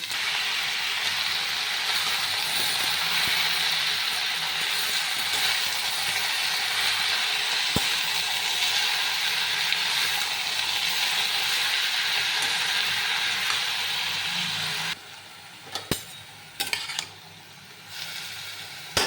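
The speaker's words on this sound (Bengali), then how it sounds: "আলু, বেগুন আর শাক খুব সুন্দরভাবে আরেকটু ভেজে নেব।" Potato, eggplant and leafy greens frying in a pan for a vegetarian meal give a loud, steady sizzling hiss for about fifteen seconds, then drop quieter with a few sharp clinks and scrapes.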